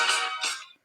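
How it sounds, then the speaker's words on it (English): A mobile phone ringtone rings loudly in two bright, warbling bursts close to the microphone, then cuts off abruptly. "sorry, that was my phone"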